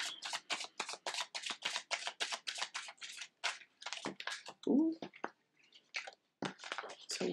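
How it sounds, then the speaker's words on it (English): Tarot cards shuffled by hand: a quick run of crisp, rhythmic riffling snaps, close and clear, broken by a brief voiced exclamation before the shuffling resumes. "It's a weird little shuffle."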